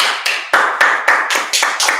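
A single person clapping at a Friday night class, about eight sharp, close, evenly spaced claps in a steady rhythm, loud and alone with no talk.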